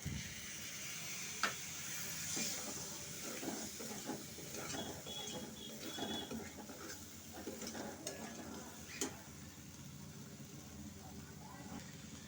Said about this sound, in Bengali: মশলাটা খুব সুন্দরভাবে কষিয়ে নিয়েছি, এবারে আমি সেদ্ধ করে রাখা ছোলাগুলো দিয়ে দিলাম